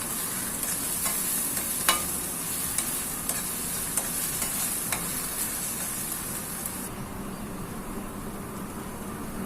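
Onion and ginger-garlic paste sautéing in a pan, a steady close sizzle with a few spoon scrapes and taps while stirring, no talk.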